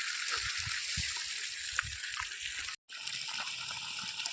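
Water gushes steadily from a solar-powered pump onto a farm field, a dense continuous rush that drops out for a moment before resuming.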